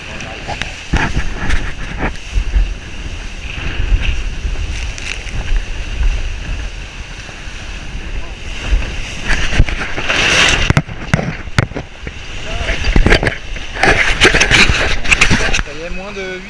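A sailboat racing offshore in a solo transatlantic event surfs waves at 17–18 knots and drops into deep troughs, giving a steady roar of rushing water and wind buffeting close to the microphone, with bursts of spray and slamming throughout.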